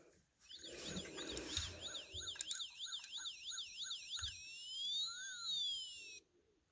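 A toy siren built into a Lego fire station gives a loud electronic wail that warbles up and down rapidly, then shifts to a faster sweeping pattern, with a click at the start and at the end.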